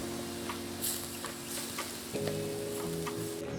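Sautéed mixture with rosemary, sage and parsley sizzles steadily in a pan, with a soft, even hiss and a few light ticks and stirring clicks over about three seconds.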